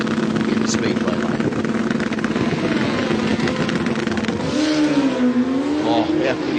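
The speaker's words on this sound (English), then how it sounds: "Watch this style on the Rocket Lane, and watch the speed of Farnell in the Speedway lane." Drag racing motorcycles roar down the strip at Willowbank Raceway, a loud, sustained engine howl with a rising revving pitch near the end, running steadily under an excited commentator's voice.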